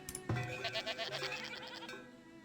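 Goats bleat in the farming village of the video game Farthest Frontier, a couple of short wavering bleats close by over a soft game background.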